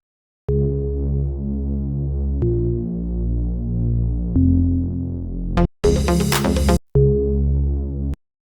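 Short plucky synth notes drenched in long reverb, built for a breakdown in a melodic house remix, play alone in clear phrases with chord changes and a brief noisy swell partway through.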